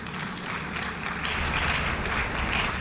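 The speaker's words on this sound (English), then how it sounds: "Give yourselves a round of applause." Graduates of the Teachers' Colleges of Jamaica and their audience break into applause at a graduation ceremony, a sustained, even patter of many hands heard from some distance, swelling slightly toward the end.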